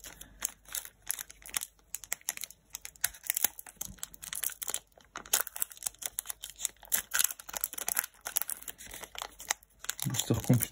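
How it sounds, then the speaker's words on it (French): A 2007 Yu-Gi-Oh! booster pack wrapper is worked open up close, with bursts of crisp crinkling and short tearing rips in an uneven stop-start rhythm. "Booster compliqué à ouvrir aussi"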